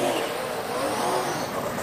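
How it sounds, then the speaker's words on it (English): Speedway race cars launching off the line at the start of a dirt-track race, a dense, fairly distant roar of several engines revving together, steady and unbroken for under two seconds. "The launch, McDonald's car"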